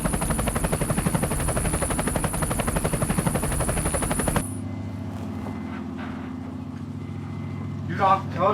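A military helicopter's rotor and engine thump in a steady rapid chop inside the cabin, loud for the first half before cutting to a quieter, duller hum, with someone talking briefly near the end.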